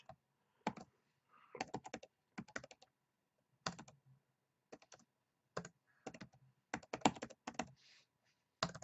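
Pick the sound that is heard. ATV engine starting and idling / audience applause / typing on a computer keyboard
typing on a computer keyboard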